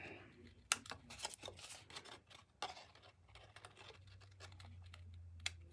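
Scissors cut through Stampin' Up Gingerbread & Peppermints designer paper while a Christmas square gift box is made: a run of quick, close, crisp snips and light paper rustles, with no talking.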